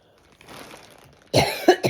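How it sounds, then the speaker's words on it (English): After a faint, quiet stretch, one person coughs loudly and close up, a harsh burst followed by a couple of shorter coughs. "This coughing is absolutely ridiculous."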